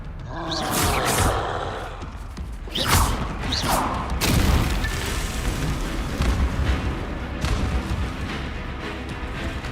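In Hogwarts Legacy, the Bombarda explosion spell bursts in a couple of heavy booms close together, then leaves a rumbling, creaking tail of debris and magical effects.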